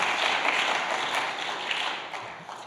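Audience applause at a Reform Judaism leadership gathering, a steady broadband patter of many hands clapping together, moderately loud and sustained throughout with no voices over it.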